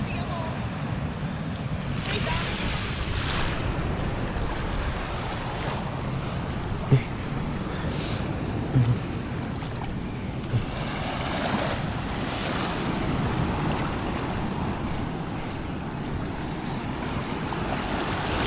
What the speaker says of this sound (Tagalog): Humina na rin ang alon.